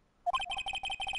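A phone ringtone sounds in the Phoenix Wright: Ace Attorney video game, a rapid electronic pattern of repeated beeping tones starting abruptly and repeating in even bursts, clear and alone.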